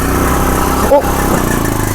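A motorcycle engine runs steadily and loudly on an icy, snow-covered mountain road in Kashmir, a continuous mid-range drone close by with a brief dip near the middle.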